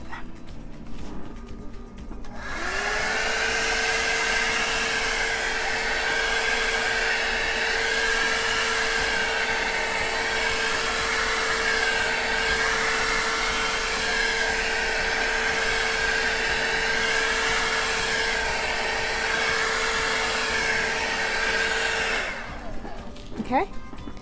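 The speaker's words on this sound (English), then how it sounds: "So let's try some heat, see what we can get with some heat." A heat gun blows a steady, loud, whirring stream of air over acrylic pour paint on a dirty cup ribbon pour, running without a break for about twenty seconds and then cutting off.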